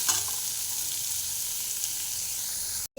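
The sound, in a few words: carrot, papaya and potato being stirred and fried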